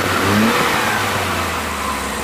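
A Suzuki F6A engine in a Multicab revs briefly up close and then settles back to a steady idle, a continuous mid-pitched drone with no voices over it.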